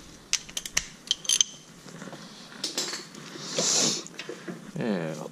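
A ratchet with a short half-inch extension clicks in quick bursts while turning a 17 mm bolt during a wheel hub replacement on a 2013 AWD Nissan Pathfinder, close, with metallic taps and clatter between strokes.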